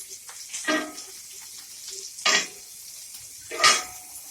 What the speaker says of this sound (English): We are adding the onions and the tomatoes to start. I'm frying them off in some tomato puree.